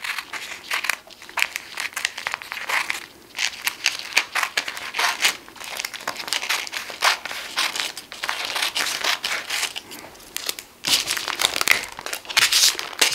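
A sheet of DIY paper stickers is cut and handled close up, producing continuous crinkling and crisp rustling with irregular bursts.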